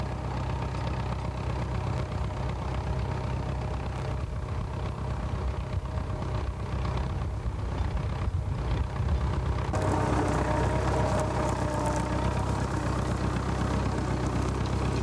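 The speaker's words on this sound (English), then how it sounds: "most of the noise a Fordson makes is transmission" A Fordson tractor engine and transmission run continuously at a ploughing championship, a loud, close mechanical drone with grinding gear noise that stays constant throughout.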